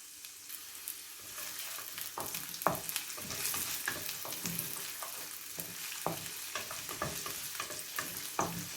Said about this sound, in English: going to put my onion and garlic in there for it just to fry up